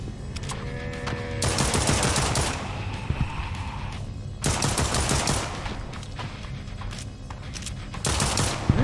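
Gunfire from the shooter video game Project R.I.P rattles in dense, overlapping bursts and sustained volleys that fill most of the stretch, loud and continuous with brief gaps.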